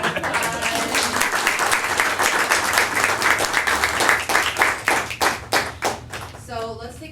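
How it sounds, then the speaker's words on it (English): Hackathon audience at a Women Who Code event claps for a presenter named Eddie, steady applause with dense hand claps that thins into a few scattered claps at the end, with some voices mixed in. "But let's give Eddie a huge round of applause."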